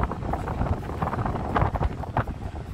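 Strong gusty wind buffeting the microphone by the sea, rumbling and uneven, with no voices.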